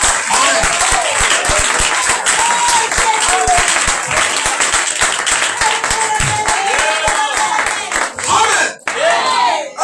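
Sustained applause and cheering from a church congregation, loud and continuous throughout, with scattered shouts and voices mixed into the clapping and a brief dip near the end.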